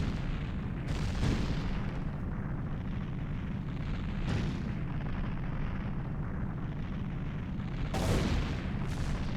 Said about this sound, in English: Do we get the explosion of the castle where the fire comes with it